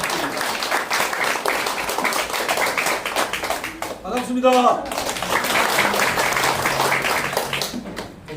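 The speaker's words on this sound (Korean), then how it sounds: "큰 박수 부탁드립니다." An audience applauds to welcome a presenter at a Korean launch ceremony for a digital-asset fraud prevention association, with loud, sustained clapping. A voice briefly speaks over it midway, and the clapping continues afterward.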